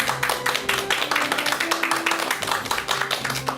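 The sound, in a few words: audience applause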